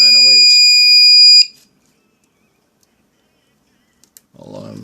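A homemade LM8361-based alarm clock sounds a loud, steady electronic beep tone for about a second and a half, then stops abruptly, followed by silence and faint handling noise before a voice begins.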